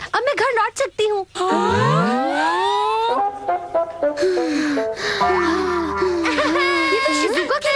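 Shizuka, a cartoon girl, cries loudly in wavering, high sobs and wails with gasping breaks, rising and falling over several seconds, with some background music tones.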